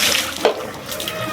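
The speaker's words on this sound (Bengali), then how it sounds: "জলও বেরোয় না তাড়াতাড়ি।" Water running from a bathroom tap, a steady close hiss of flowing water lasting a little over a second.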